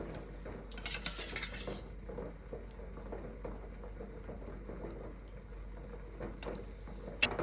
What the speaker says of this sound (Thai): ใส่ลงไปในหม้อกะทิ